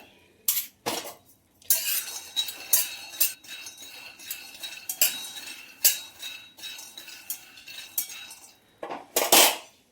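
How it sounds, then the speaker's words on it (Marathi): Peanuts are roasted in a pan while a utensil stirs them, giving repeated close metallic scrapes, clinks and taps at an uneven rhythm with short quiet gaps between. "आता आपण थोडेसे शेंगदाणे भाजून घेऊया"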